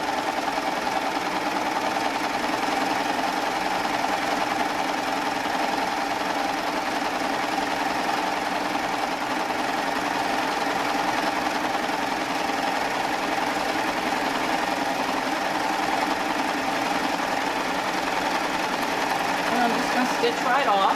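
A Baby Lock Triumph sewing machine runs at an even speed, stitching a decorative embellishment onto a pillow front; its close, steady mechanical hum continues unbroken throughout.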